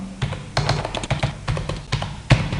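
A name is typed on a computer keyboard in quick, close, crisp clacks. The keystrokes come in uneven bursts, each one distinct and fairly loud, with no voice over them.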